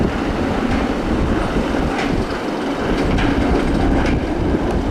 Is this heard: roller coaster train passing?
yes